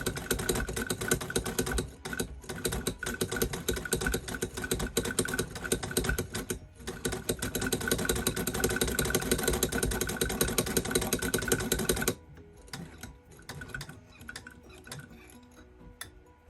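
A Singer Sew Handy 20 toy sewing machine stitching fast, a loud rapid mechanical clatter with brief pauses that stops abruptly at twelve seconds, leaving quieter ticks and handling sounds.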